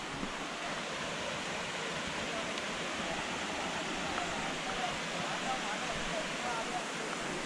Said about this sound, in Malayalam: അങ്ങനെ വെള്ളച്ചാട്ടം എത്തിയട്ടോ, ഏകദേശം നമ്മൾ അടുത്തെത്തി വെള്ളച്ചാട്ടത്തിൻ്റെ.